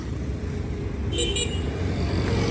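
Busy street beside a gas station with passing vehicles and pedicabs: constant traffic rumble, with a short car horn toot partway through.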